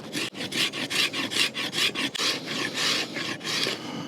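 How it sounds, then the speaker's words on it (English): A Condor El Salvador machete scrapes fatwood in rapid rasping strokes, a dense rhythmic series of about a dozen close, loud scrapes with no talking. "We'll try to see if we can scrape some fat wood."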